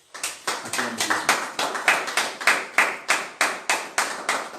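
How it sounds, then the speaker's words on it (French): A church congregation claps in a steady, even rhythm, with loud, close, regular claps repeating about three times a second and no talk over them. "Acclamons Jésus."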